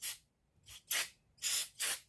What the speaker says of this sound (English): we're going to take this brake cleaner and we're going to spray the inside of the pump